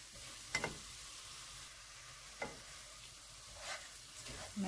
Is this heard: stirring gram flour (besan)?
yes